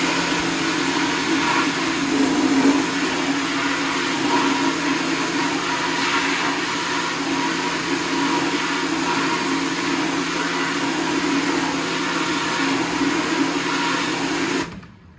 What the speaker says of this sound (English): Then you're going to use the pressure washer.